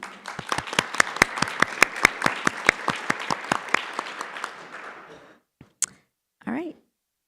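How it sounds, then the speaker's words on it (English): A school board meeting audience applauds award honorees with steady, evenly spaced claps for about five seconds before it fades, followed by a short gap and brief voices. "if we could have a round of applause for them as well"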